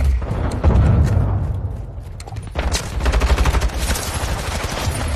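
Rapid bursts of gunfire in a first-person shooter video game, loud and dense with booming shots and fast automatic fire running throughout without a break.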